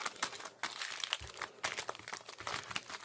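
Rapid papery riffling and crinkling of Pokémon trading cards being shuffled, several bursts in quick succession, close and fairly quiet, with no voices.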